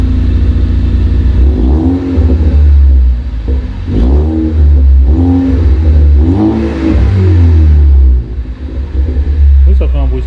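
A car engine with the muffler removed and a straight pipe in its place revs repeatedly in deep, loud rumbling surges up to about 3000 rpm, each rise and fall close by, with people talking over it.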